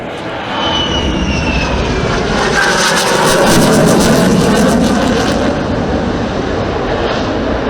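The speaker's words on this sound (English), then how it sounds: "The Spanish Air Force ordered over 80 legacy EF-18Ms" Spanish Air Force EF-18M fighter jets at the Torre del Mar airshow, a loud continuous jet roar that swells and rumbles steadily throughout, with a brief whine sweeping through early on.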